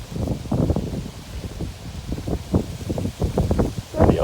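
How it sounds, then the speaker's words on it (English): Gusty wind buffets an outdoor spot in Red Wing on a windy day, uneven rushing bursts and low microphone rumble rising and falling close by. "I'll record on this windy day"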